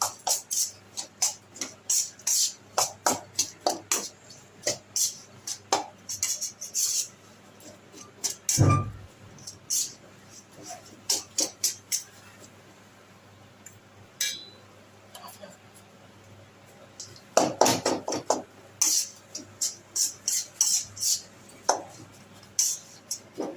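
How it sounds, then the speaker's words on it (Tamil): Roasted gram (pottukadalai) sweet mixture stirred in a pan over low flame, a spoon scraping and clinking against the metal in irregular bursts, close and fairly clear, with pauses between strokes. "மிக்ஸ் பண்ணிகிட்டே இருக்கலாம் ஒரு 10 நிமிஷம்"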